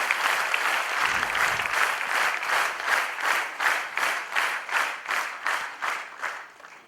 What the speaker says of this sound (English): Can I have a clap for these guys?